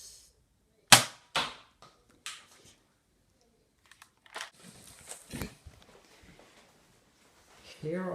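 An automatic Lego gun firing, giving a few sharp, close snaps and clicks spaced apart in a quiet room, followed by lighter rattling and a voice near the end.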